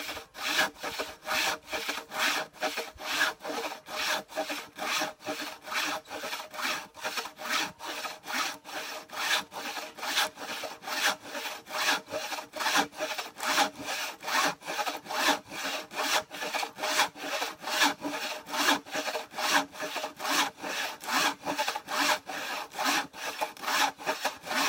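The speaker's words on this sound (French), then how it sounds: "l'autre scie a tendance à partir à gauche" A hand saw rasps through wood in steady, even back-and-forth strokes, close and continuous for the whole stretch with no talking.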